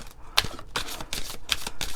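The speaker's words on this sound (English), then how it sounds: "All right, one more shuffle, and if not, we'll just pick two more cards to go with it." A deck of cards is shuffled at close range, giving bursts of crisp riffling flutter in a steady rhythm of about five quick runs over two seconds, with no talking.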